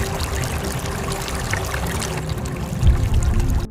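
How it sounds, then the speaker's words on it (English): A river flows freely through a valley, a steady rushing and trickling of water that holds at an even level and swells slightly near the end. "they arrived at a valley where a river flowed freely"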